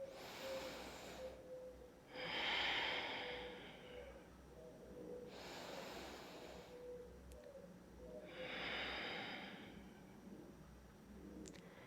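Slow, airy breaths during a yoga pose, four soft drawn-out inhales and exhales spaced a few seconds apart, faint and close with no talking.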